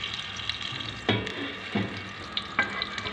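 Margarine with a little oil melts in a frying pan, giving a continuous close sizzle broken by a few sharp crackling bursts as the fat spits, with no talking.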